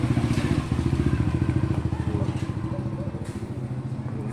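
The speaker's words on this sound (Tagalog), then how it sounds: "Ito po yung motor ng anak ko." A motorcycle idles close by with a steady, rapid pulsing thump that stays loud and even throughout, with no voices over it.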